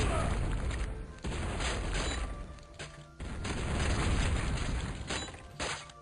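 Heavy booming cannon blasts and crashing impacts from a battle in the game Total Annihilation: Kingdoms, several loud bursts in quick succession with rumbling between them.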